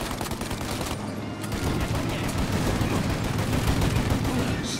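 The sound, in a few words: gunfire in a video game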